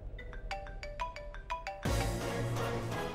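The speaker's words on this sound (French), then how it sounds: "À qui est ce téléphone?" A telephone plays a ringtone: a run of short, evenly spaced electronic tones repeats with a clear rhythm, then gives way to a louder, denser burst of sound.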